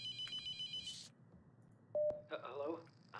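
A telephone rings in a spooky horror video game: a bright, steady electronic tone sits over a low ambient hum, followed by a louder burst of ringing near the end, with no talk over it.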